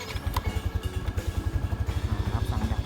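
A Yamaha NMAX 155 scooter engine runs after a key start, a steady low rhythmic pulsing idle close by with light mechanical clatter, no talking.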